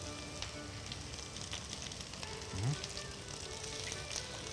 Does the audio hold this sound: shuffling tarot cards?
no